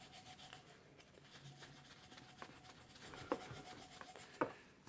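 A fingernail scrapes chewing gum, softened by soaking in vegetable oil, off a plastic tube. A quiet, steady rubbing runs throughout, broken by a few sharper scrapes near the end, with no voices.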